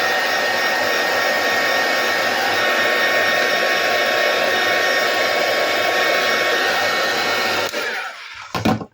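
Hair dryer blowing steadily and loudly to dry paint on a small art tag, a continuous roar that cuts off near the end with a couple of brief handling knocks.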